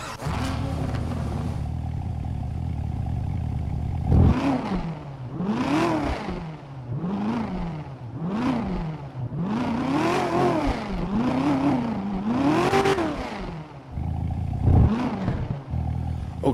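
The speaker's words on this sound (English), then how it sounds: "Let's hop into the C7 wide body and hear that custom Corvette engine sound." A custom wide-body Corvette C7 engine in a modded GTA 5 game idles, then revs repeatedly in rising and falling sweeps before dropping back, loud and close with no talking.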